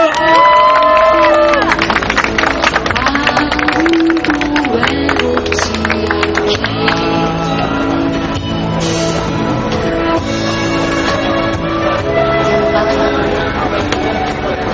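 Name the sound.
crowd applauding at rally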